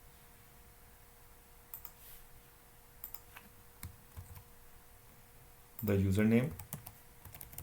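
Keyboard typing on a computer while entering a remote machine's host name: scattered faint keystroke clicks across the clip, with a brief burst of speech near the end.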